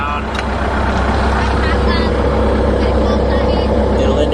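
A Bobcat S250 skid steer loader starting up, its engine rumbling steadily and loudly close by, with a constant low drone that holds throughout under light background noise.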